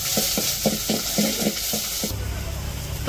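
Onions fry in a pot during a village kitchen session of cooking bottle gourd with fish head: scraping stirs come in quick repeated strokes over a steady sizzle, then the stirring stops and the hiss continues alone.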